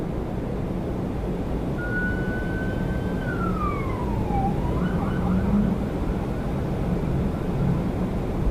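A police car siren sweeps up and wails outside Toronto Pearson airport, a single steady tone that slides down and fades, fairly distant over constant traffic and aircraft rumble.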